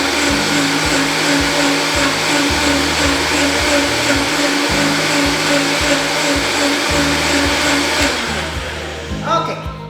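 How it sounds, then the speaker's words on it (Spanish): A kitchen blender runs steadily at medium speed for the full stretch, loud and close, with a pulsing low motor hum and a bright whirring wash above, then spins down near the end. "Vamos a licuar siempre con la velocidad media para empezar."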